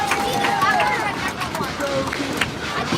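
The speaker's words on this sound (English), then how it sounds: "let's give these folks a round of applause" Passengers aboard the Dollywood Express steam train applaud veterans, a brisk burst of mixed clapping with crowd murmur and a few voices talking, close and fairly loud.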